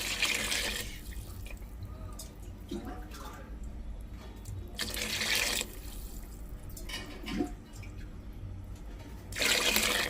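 Water is poured into a cooking pot for a soya chunks pulao, heard as several splashing, gushing bursts at the start, middle and end, with fainter trickling and quieter stretches between them.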